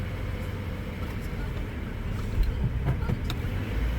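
A Subaru car with a CVT transmission runs in reverse, giving a steady low engine and drivetrain hum close by, with a few faint clicks and brief bumps partway through.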